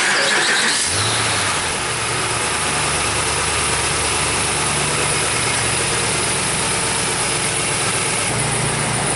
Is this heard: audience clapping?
no